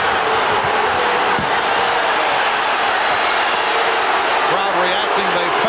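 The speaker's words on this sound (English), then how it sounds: "Crowd reacting." A large arena crowd at America West Arena in Phoenix during Game 2 of the 1993 NBA Finals, Bulls vs Suns, roars and murmurs in a dense, continuous wash of noise, loud and sustained throughout with no clear pauses.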